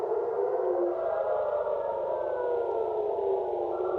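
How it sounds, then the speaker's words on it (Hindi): Air raid sirens in Israeli cities during an Iranian attack sound a steady, sustained wail that holds for the whole stretch with slight pitch drift, distant and unbroken, with no talk. "इजराइल के कई सारे शहरों में सायरन की आवाज सुनाई दी गई है"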